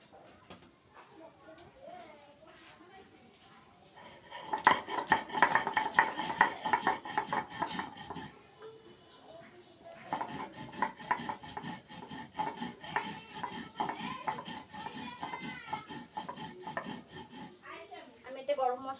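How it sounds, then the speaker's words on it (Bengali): Cumin and cardamom are ground into a spice paste, likely on a stone, producing rhythmic rubbing and grinding strokes that come in loud bursts separated by quieter pauses, with talk at times. "মশলাটা জিরাটা আর এলাচ করাটা একসাথে বেটে নেব।"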